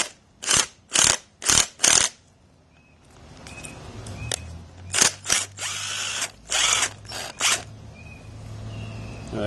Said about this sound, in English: as I keep turning the screw, that riv nut will compress inside